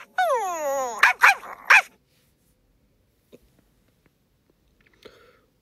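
A cartoon puppy in an animated adventure gives a whiny, rising yelp, then three quick, close barks, followed by near silence.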